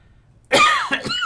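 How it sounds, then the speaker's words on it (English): A single harsh cough from an adult man at a microphone, loud and close, breaking into two quick bursts after a brief quiet moment. "I can't suppress this cough long enough"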